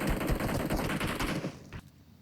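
An Uzi submachine gun fires a rapid, close, continuous burst in a video game, then cuts off abruptly into near silence.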